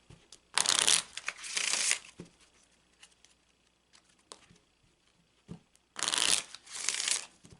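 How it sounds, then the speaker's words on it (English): A deck of Petit Etteilla cards is shuffled in two quick riffling bursts, then a quiet pause with light handling taps, then two more crisp riffles, close and clear with no talking. "I'm going to, again, cut the deck. It's just another way to kind of make sure that they're all mixed up really well."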